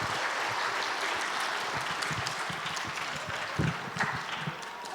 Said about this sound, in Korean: 크게 박수할까요?